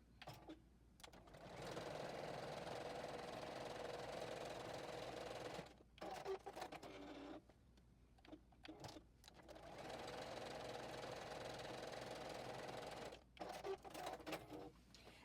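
A JUKI sewing machine runs the bottom seam of a fabric basket, humming quietly in long stitching runs broken by a few short stops, close and without speech.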